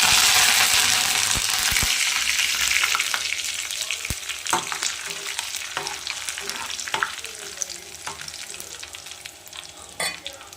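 Curry leaves hit hot oil for a tempering, bursting into a loud, steady sizzle that gradually eases over about ten seconds, with scattered sharp crackles and pops throughout and no voices.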